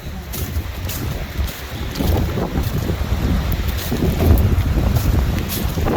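Strong cold wind blowing outdoors on a near-freezing fall day, a steady rushing roar with buffeting gusts on the microphone that swell louder toward the middle, with no one talking.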